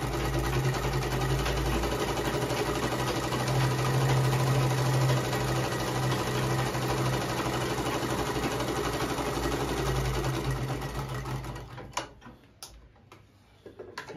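A household sewing machine runs steadily, stitching a straight seam in a loud, continuous mechanical whir with rapid ticking, slowing and stopping near the end.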